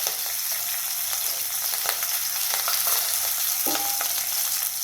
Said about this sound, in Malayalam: ഇനി നമ്മൾ 2 പച്ചമുളക് നല്ലപോലെ ഒന്ന് ഫ്രൈ ആയതിന് ശേഷം